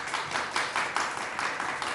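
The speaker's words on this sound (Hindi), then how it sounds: "लाहौरियों के लिए भी तालियां बजाएं।" A studio audience at a Ramadan iftar television broadcast claps steadily, with a moderate, even patter of many hands rising and falling in soft waves.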